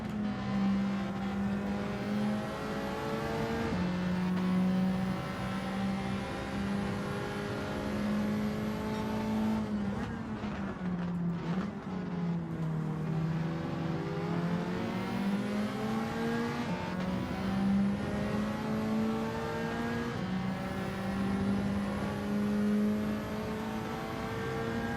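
A Nissan race car in Gran Turismo 7 holds a loud, steady engine drone through a race, its pitch climbing through gear changes with a brief dip and recovery around the middle, no talking over it.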